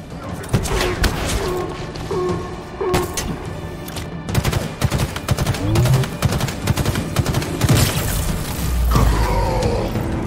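Gunfire in the video game Halo Infinite destroying a relay, with rapid, loud bursts of shots, mechanical clanks and thuds, and voices and game sounds mixed in beneath.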